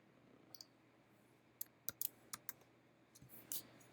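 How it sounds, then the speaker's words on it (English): A computer keyboard is tapped in sparse, quiet clicks during Photoshop editing: a couple of light presses, then a brisk cluster of sharp keystrokes and a final short burst, heard alone in a quiet room. "So I'm hitting keys I'm not meaning to hit."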